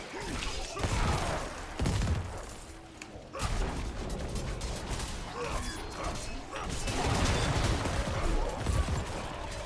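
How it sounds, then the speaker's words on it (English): Explosive combat noise from the Diablo 4 action game, a hardcore thorns Barbarian battling vampires: loud bursts, crashes and rattling impacts overlapping in dense waves, with a brief lull near the middle before the clamour surges again. "That was a pretty big explosion from everyone nearby"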